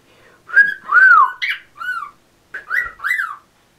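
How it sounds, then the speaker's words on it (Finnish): A pet bird whistles a series of clear, rising and falling notes in two short phrases, close and loud in an otherwise quiet room. "tuo uusi lintu on tuolla."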